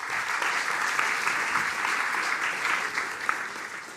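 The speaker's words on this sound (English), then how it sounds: "Please give her a warm applause." Steady audience applause greets a guest, the program director of 72U Amsterdam, taking the stage at a graphic design event, with dense clapping holding an even level across the whole stretch.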